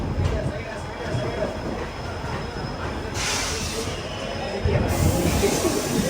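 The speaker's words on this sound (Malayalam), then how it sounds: "ഇതാ ട്രെയിൻ എടുത്തിരിക്കുകയാണ്." Express sleeper train from Thoothukkudi to Mysuru pulling out of a station. A steady rumble and hiss of the moving carriages swells in the second half, heard from onboard with faint background voices.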